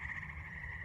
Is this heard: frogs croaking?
yes